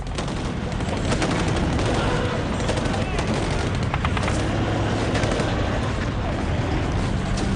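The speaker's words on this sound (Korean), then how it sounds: "차량 위의 기관총 사수 호세 들라토레 하사는 맹렬한 적들에 맞서 수백 발의 탄환을 뿌려댔다" Machine gun fire from a mounted gunner atop a Marine Humvee during an ambush on a road pours out in dense, continuous bursts, loud and chaotic alongside other gunfire, with a voice speaking over it.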